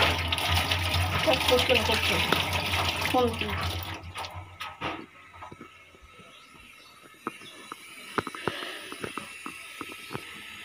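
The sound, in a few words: washing a spoon under running water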